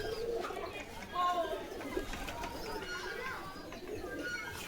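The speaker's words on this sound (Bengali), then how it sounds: "খোপের মধ্যে অনেক আরো কবুতর আছে।" Pigeons in their coops on a Bangladeshi farm coo in overlapping calls while a person talks over them, with the birds close and fairly quiet throughout.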